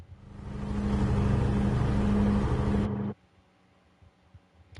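A Toyota Supra race car engine in Gran Turismo 7 drones loudly and steadily, building briefly then holding a sustained roar before cutting off abruptly, leaving only faint low noise.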